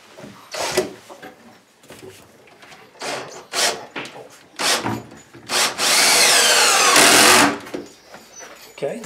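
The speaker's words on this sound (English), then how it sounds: "We're going to take our screw and we're going to join the cabinets together here." A power drill drives a screw to join kitchen cabinets during installation. A steady whir of about a second and a half rises among knocks and handling noises, and speech is heard around it.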